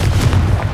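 A Confringo fire spell in Hogwarts Legacy detonates as a short, loud, low booming blast, close and heavy, lasting under a second.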